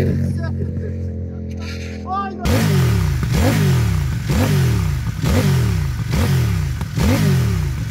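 A CF Moto 800 NK motorcycle with a reworked KTM-derived engine revs in repeated swelling pulls, loud and near, after a short stretch of lower idle, with a voice talking briefly.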